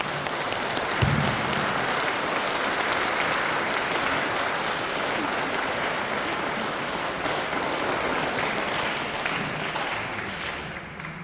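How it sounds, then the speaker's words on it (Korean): A church audience at a Catholic parish Advent lecture claps enthusiastically to welcome a priest, a dense, sustained round of applause from many hands that carries steadily and tapers slightly at the end. "힘찬 박수로 환영해 주시면 감사하겠습니다"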